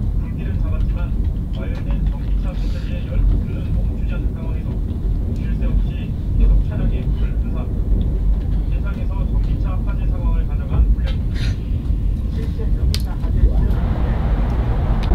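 Inside a moving train, a steady low rumble of wheels and carriage fills the cabin with occasional rattles and clicks, and voices talk quietly above it.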